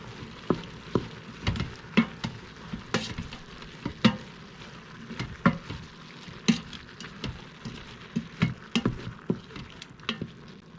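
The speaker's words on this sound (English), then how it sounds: "Also, I'm adding some green chilies." Green chilies sizzle softly in an Instant Pot. A faint, steady hiss runs underneath while sharp clicks and taps from stirring come at irregular intervals.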